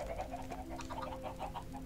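Chickens clucking in Minecraft, a steady run of short repeated clucks packed together from a pen full of birds, fairly close and continuous with no talk.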